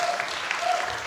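A church congregation applauds during a Sunday dedication service, a dense, even wash of clapping that carries through the whole short moment.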